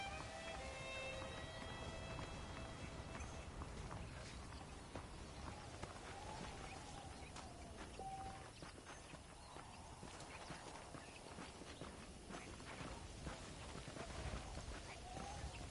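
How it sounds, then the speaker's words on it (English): Hooves clop at a steady gallop-like pace in Red Dead Redemption, horses ridden through a frontier setting, rhythmic and fairly close beneath a soft ambient game backdrop. "The horses are saddled up over here."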